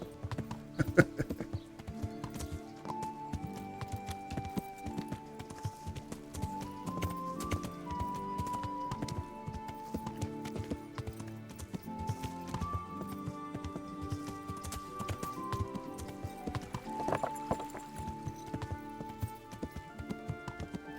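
Horse hooves clip-clop in a steady rhythm over game music with sustained tones in the video game Kingdom Come: Deliverance, the trotting continuing throughout.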